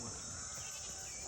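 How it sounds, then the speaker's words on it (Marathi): Sheep bleat amid a crowd at a Balumama palanquin procession in a village near Pune, heard briefly beneath a dense, noisy outdoor wash of voices. "मेंढी माऊलीचं दर्शन"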